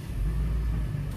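A Hyundai Stargazer engine idles after its cable fault was repaired, a steady low rumble with a smooth even hum, close and alone.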